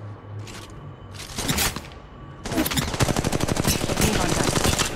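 Automatic gunfire in Apex Legends Mobile, heard in first person, starts with two short bursts. It then becomes a sustained rapid stream of close, loud shots.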